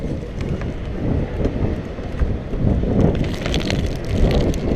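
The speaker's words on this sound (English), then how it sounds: "Oh, it's windy today" Strong outdoor wind buffets and roars across the microphone in steady, heavy gusts, a loud rumbling wash with no voices.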